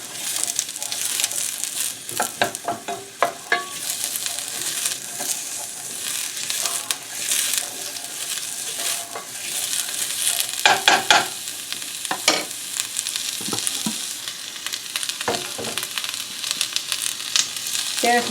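Onions sautéing in a soup pot, a continuous crackling sizzle with frequent scraping stir strokes and clatter from the utensil, close and prominent over the whole stretch.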